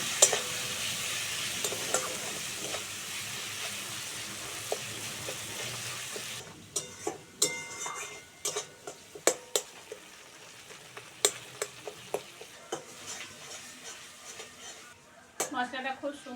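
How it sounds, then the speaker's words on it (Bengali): Spice paste of salt, turmeric and chilli powder is sautéed in a pan for a Bengali fish curry, first as a steady sizzle, then as scraping stirs and frequent spatula clicks against the pan. "মশলাটা খুব সুন্দর করে কষে নিয়েছি"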